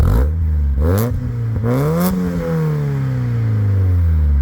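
A 1996 Mazda Miata four-cylinder engine with aftermarket exhaust revs in several sharp throttle blips, then settles into a steady raspy idle, loud and close.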